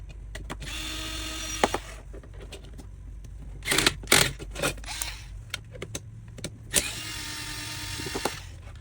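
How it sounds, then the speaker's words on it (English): A long screwdriver backs screws out of a Farmo rain gauge: two stretches of whirring buzz from a powered driver, with clicks and knocks of handling in between, close and fairly quiet; no voices. "There will be 4 screws that you need to take off, and this is why you need a really long screwdriver"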